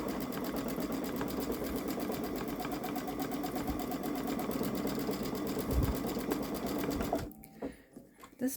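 Babylock Solaris Vision sewing machine doing edge-to-edge quilting, with a loud, steady rapid needle hum that runs continuously for several seconds, then stops, leaving a few faint clicks.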